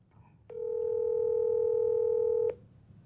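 A telephone line tone: a single steady electronic beep held for about two seconds, clear and alone over a quiet background.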